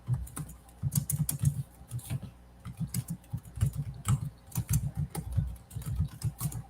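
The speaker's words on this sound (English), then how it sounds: "Just typing." Irregular bursts of keystrokes on a computer keyboard, close and fairly loud, tapping in quick runs with short pauses between them, no voice over it.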